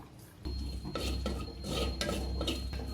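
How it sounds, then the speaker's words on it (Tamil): Onion sautéing in coconut oil in a clay pot, a close steady sizzle with a spoon scraping and stirring against the pot's sides, no voices. "நம்ம வெங்காயம் போட்டு இதில் வதக்க போகிறோங்க"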